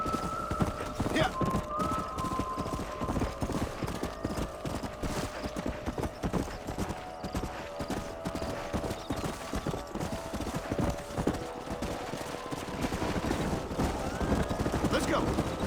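Horse hooves clip-clopping in the western video game Red Dead Redemption, a dense steady gallop under game music and voices, with occasional distant gunfire and a whinny.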